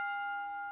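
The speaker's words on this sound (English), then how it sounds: "Ring the bell." A single bell struck once during a live online B2B eCommerce discussion, leaving a clear, steady ringing tone that holds for under a second.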